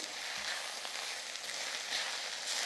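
Steady close-up sizzling of eggplant pieces frying in a pan, a continuous crackling hiss with occasional soft stirring sounds.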